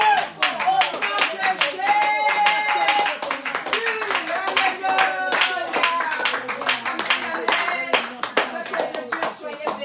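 A church congregation claps along in steady rhythm through a worship song, hands loud and close, with singing voices carried over the clapping.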